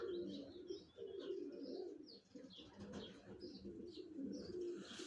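Several pigeons coo softly and repeatedly, with occasional chirps and a faint flutter of wings, fairly quiet and close by.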